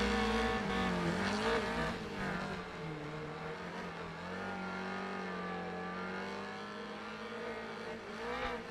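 Race cars in Wreckfest 2 roar through the final corners of a ranked circuit race, engines droning and revving steadily with shifting pitch, a dense continuous engine wash with no talk.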